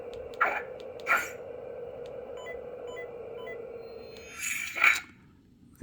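Saberforge lightsaber with the Xeno 3 sound font humming at idle, a steady low electric drone with a few brief crackling flickers at the start and near the end, close and alone.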